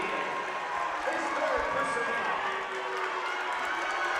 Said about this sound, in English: Look at this crowd get up on their feet.